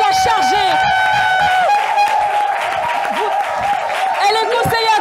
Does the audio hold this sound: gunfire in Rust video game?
no